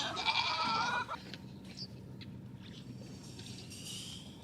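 Goats on a farm, including big pregnant mothers, bleating: one loud, close, drawn-out bleat opens the moment, followed by fainter, shorter bleats from further off over a low background rumble.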